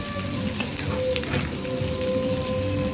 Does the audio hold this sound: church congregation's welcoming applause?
no